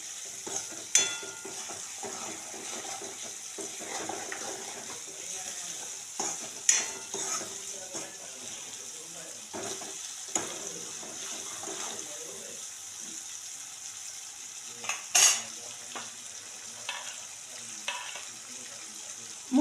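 Moong dal stirred into a frying masala in a pan, with a steady soft sizzle under scraping spoon strokes and a few louder clinks; no one speaks.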